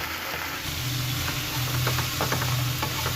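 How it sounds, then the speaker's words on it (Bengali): Tender bathua greens fry in a pan with a steady soft sizzle, broken by a few clinks and scrapes of stirring, close and continuous, with no voices. "কচি শাক তো বেশি টাইমও লাগে না খুব সুন্দর ভাজা হচ্ছে"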